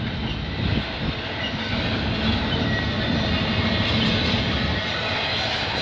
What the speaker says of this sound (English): This train's heading to Chicago.